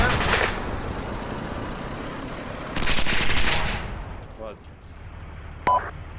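Bursts of rapid gunfire crackle in the video game Arma 2, loud and dense, with a second heavy volley midway and fainter clicks afterward.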